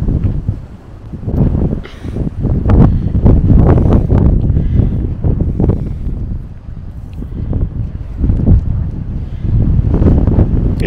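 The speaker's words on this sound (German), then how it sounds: "da pfeift der Wind richtig aggressiv" Strong February storm wind gusts through a garden by the raspberry canes, roaring and buffeting the microphone in loud, continuous waves with brief lulls.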